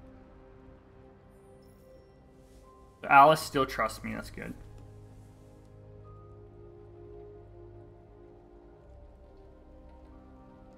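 Steady rain falls in the video game Detroit: Become Human, a soft, even wash of patter that runs the whole way through, with a man and someone briefly talking over it near the middle.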